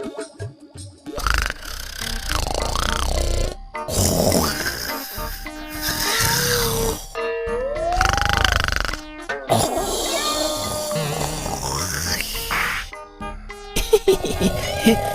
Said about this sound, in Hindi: देखो तो इस इंस्पेक्टर को कैसे खर्राटे मारकर सो रहा है।